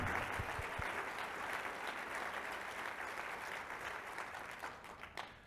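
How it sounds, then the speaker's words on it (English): A round of audience applause after a talk at a lecture address, steady, even clapping across the room that gradually thins out at the close, heard faint and somewhat distant. "give a round of applause for her and that amazing talk"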